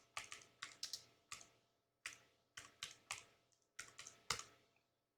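Fingers type on a computer keyboard in quiet bursts of rapid clicking keystrokes, separated by short pauses, close and faint with no one speaking.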